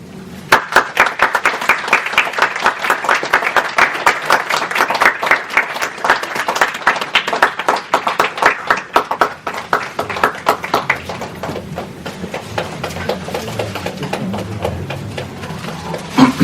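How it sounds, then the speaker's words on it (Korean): A congregation applauds at a church elder ordination and retirement ceremony in New York, with dense sustained clapping that fills the room for most of the stretch, then thins into scattered claps near the end. "우리 다시 한번 축하의 박수를 보내드립니다"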